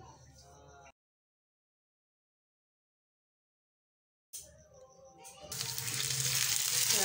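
Green chillies frying in a pan for egg gravy, a steady hissing sizzle that swells louder after a short silent gap, with faint stirring or clatter at the start.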